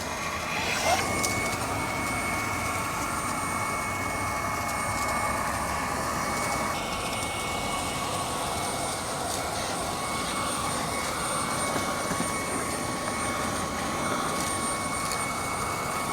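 A Fanttik V10 Mate cordless vacuum cleans a floor mat with its bare nozzle, humming loudly and steadily close by, its pitch shifting slightly partway through.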